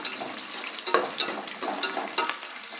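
Onions fry in a pan for egg fried rice, a soft steady sizzle broken by a few sharper scrapes and clinks from stirring, close and moderately loud, with no talking.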